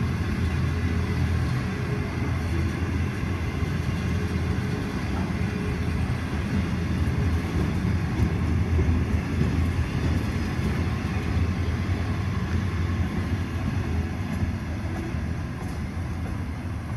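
A freight train rolls past at Unanderra, a steady, loud rumble and clatter of wagons continuing unbroken for the whole stretch, with no voices over it.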